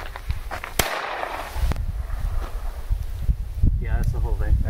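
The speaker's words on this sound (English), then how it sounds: "Two bullets through the can." Two gunshots fired at a can during a camping trip on BLM land in Nevada, sharp loud cracks near the start and then one second later, with outdoor rustling and people talking afterward.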